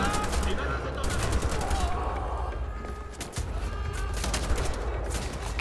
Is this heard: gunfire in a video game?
yes